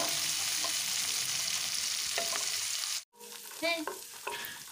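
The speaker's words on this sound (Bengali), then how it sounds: "পেঁয়াজটা দেওয়ার পরে একটু নাড়াচাড়া করে ভেজে নিচ্ছি" Chopped onion, one large onion finely diced, sizzles steadily in a hot pan while a spatula stirs it with scraping clicks; a brief gap interrupts the frying before it resumes with sharper spatula scrapes.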